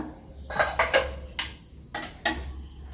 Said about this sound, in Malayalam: ഇരുമ്പിൻ്റെ ചീനിച്ചട്ടിയാണ് ഞാൻ ഉപയോഗിക്കുന്നത്